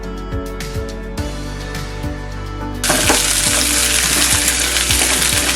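Ginger garlic paste goes into hot oil for a beetroot and chana dal fry. A moderate sizzle jumps to a loud, dense crackle partway through, with soft repeated taps underneath.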